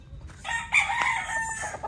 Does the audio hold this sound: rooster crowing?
yes